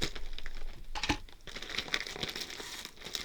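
A plastic shipping bag from a Temu haul is cut open and handled, producing close, quiet crinkling and rustling with a few sharper crackles.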